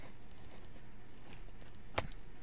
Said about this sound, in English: Broke my pencil.